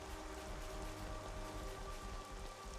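Steady rain falls in the video game Xenoblade Chronicles 3 as a dense, even patter that is fairly loud and continuous, with no voices over it.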